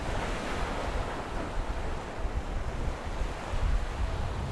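Churning sea waves along the Firth of Forth shore on the Elie coast, a dense, continuous roar of surf with heavy wind rushing across the microphone, loud and unbroken throughout, with no voices.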